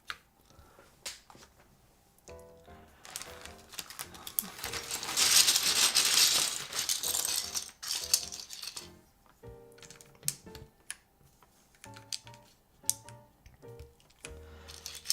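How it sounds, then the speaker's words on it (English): Keycaps are pressed onto a mechanical keyboard, making a series of sharp plastic clicks and taps in uneven bursts, close and fairly quiet, with a short rustling noise in the middle. "Now, putting on keycaps."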